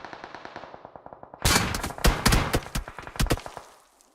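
Gunshots in PUBG Mobile: a steady, rapid ticking stream of distant automatic fire, then louder, closer bursts of shots crack out in uneven clusters before fading.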